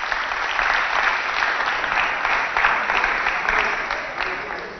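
A studio audience applauds a contestant on a Chadian game show, a steady, full wash of clapping lasting several seconds and easing slightly at the end.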